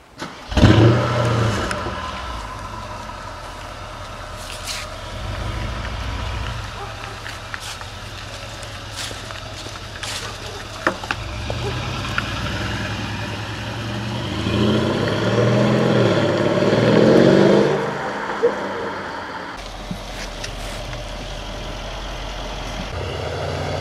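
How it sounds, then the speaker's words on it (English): A Mercedes ML 63 AMG engine cranks and fires up, idles with a low burble, then revs and accelerates into a loud rising surge before settling, close and clear without talk. "So let's start the engine, and I will go for a drive"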